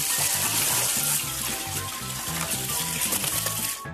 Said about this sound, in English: Dog drinking water while washing its face.